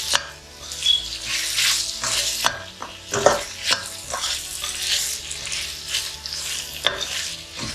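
Tomatoes fry and are stirred in a pan for roadside parotta salna, an uneven sizzle broken by repeated scraping and clanking strokes of a spoon against the metal, close and fairly loud.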